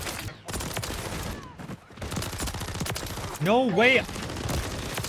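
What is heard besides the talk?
Renetti pistol full-auto gunfire in Modern Warfare 3 video game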